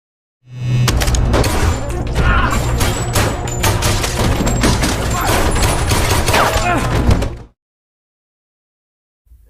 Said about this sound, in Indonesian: Tembakan pun pecah tanpa peringatan.